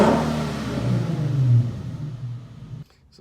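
Infiniti Q50 with the 3.7 engine and drop-in filters revs up, a steady mid-range exhaust drone that swells and then drops away near the end, heard alone without talk.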